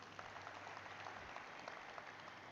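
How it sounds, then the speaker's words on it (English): Faint, steady applause from an audience at the Physics Wallah IPO listing ceremony on the NSE, an even, distant patter of many hands over a low hum. "Once again, let's give him applause, everyone."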